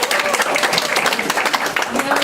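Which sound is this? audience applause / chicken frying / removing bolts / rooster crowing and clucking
audience applause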